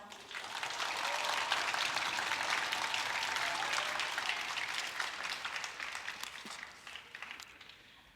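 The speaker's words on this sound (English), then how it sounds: "You can applaud." A crowd applauds steadily at an eighth grade academic awards assembly at a school, the even clapping sounding moderately distant and fading gradually toward the close.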